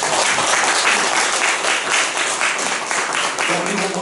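A church congregation applauds a missionary after a sermon, dense, loud, sustained clapping from a large crowd that fills the space throughout.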